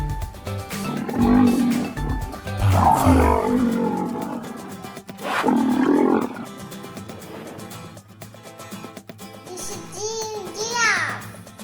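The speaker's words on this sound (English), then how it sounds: "The sound of ox is called low." Deep, drawn-out ox lowing rising and falling in several long calls, loud and throaty, with rougher noise and higher cries toward the end.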